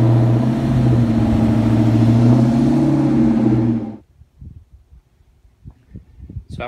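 A Ford SVT Cobra's engine runs loud and steady as the car rolls into a garage, then cuts off abruptly, leaving scattered faint clicks and knocks.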